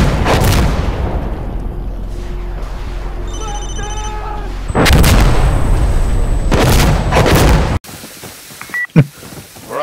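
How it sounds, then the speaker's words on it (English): Loud booming blasts from rocket explosions in the video game Insurgency: Sandstorm, several bursts with sharp tonal beeps in between, ending in a sudden cut to quieter noise. "Rockets!"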